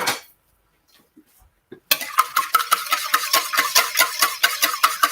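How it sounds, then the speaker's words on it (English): A whisk clinks briskly against a bowl, beating egg yolks, milk and melted coconut oil together for pancake batter, a steady fast rhythmic tapping and scraping that starts after a near-silent pause. "So we've got the 3 egg yolks, milk, and melted coconut oil. And we're going to whisk the crap out of them."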